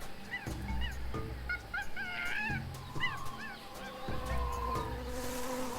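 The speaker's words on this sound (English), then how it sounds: "And now we're listening for a bee." Buzzing bee sound effect in the Tales of Monkey Island adventure game, with several short warbling tonal calls over a low hum and game ambience, no speech.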